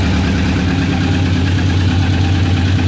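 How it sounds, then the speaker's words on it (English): A 1998 Suzuki Katana motorcycle engine idles steadily after a kick start with no choke, a close, even low rumble that holds constant and loud throughout, with no talking. "Just fired it up a little bit for my buddy."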